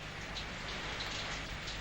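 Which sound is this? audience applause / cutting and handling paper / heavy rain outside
heavy rain outside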